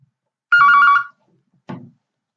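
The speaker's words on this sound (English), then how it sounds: "I think I'm going to switch off this phone because it's actually giving me headache." A phone rings once in a single loud electronic trill, then gives a shorter, fainter chirp after a brief pause, in an otherwise quiet room.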